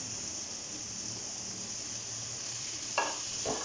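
About 750 grams of ground meat keema with garam masala frying in a pan, a steady hissing sizzle with a couple of scraping stirs near the end.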